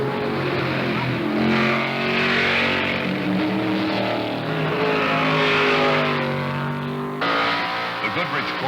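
BF Goodrich racing Corvette at the 1973 Le Mans 24 Hours, its engine roaring loudly and steadily at high speed with shifting pitch as it passes, a commentator's voice over the top.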